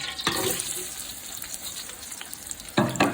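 Onions fry in hot ghee and oil in a pan, a loud, steady hissing sizzle throughout, with bursts of stirring near the start and end.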